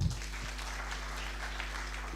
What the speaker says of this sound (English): Let's give them a hearty clap again.